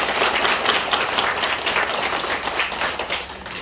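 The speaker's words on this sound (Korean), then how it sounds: "한번 박수하겠습니다" A church congregation claps for two members after a promotion announcement, a dense burst of many hands that runs steadily for a few seconds and then tapers slightly.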